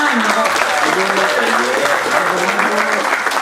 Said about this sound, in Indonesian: Tepuk tangan kok.